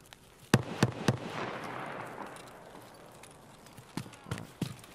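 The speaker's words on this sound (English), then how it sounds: "someone's shooting something nice and fast. I think it's an SVD" Several sharp gunshots from an SVD rifle in Escape from Tarkov, three quick distant cracks followed by rolling echo, then a few more fainter shots near the end.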